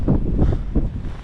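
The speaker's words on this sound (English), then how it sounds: "Because it's super windy, it's stormy" Strong blizzard wind in Jackson Heights, New York City, buffeting the microphone in low, rumbling gusts that swell and ease over about a second, with no speech.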